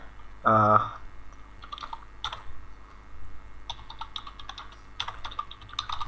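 Several bursts of quick keystrokes on a computer keyboard as a website name is entered, light clicky taps in short clusters over a quiet room hum, with a louder thump near the start.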